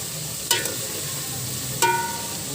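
Chicken and string beans sautéing in a pan make a soft constant sizzle, with two sharp clanks of a utensil striking the pan about a second apart, close and clear.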